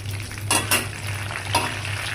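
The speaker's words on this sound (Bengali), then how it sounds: "এখানে সরষা তেল দিয়ে আমি খুব সুন্দর করে এগুলোকে ভেজে নিব।" Sweet mango pickle ingredients frying together in mustard oil: a brief close sizzle with two or three scraping stirs of a spoon in the pan.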